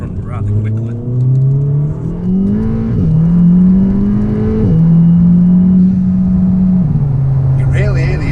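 An APR Stage 2 tuned VW Golf R accelerates hard uphill, its intake and engine note climbing loudly through several gears with distinct shift dips, close and continuous, while a voice talks over it.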